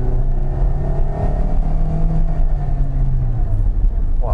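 A 2022 Perodua Alza MPV with a 1500cc naturally aspirated engine is pushed hard on the throttle, heard from inside as a loud, steady engine drone that holds without climbing, with no one speaking.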